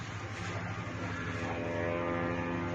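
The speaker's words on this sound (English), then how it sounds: "we can see the Bulgar drone right here, actually flying over the Don River" A small military drone flies over the Don River, its engine a steady droning hum with a faint harmonic whine, continuous and moderately distant, no voices.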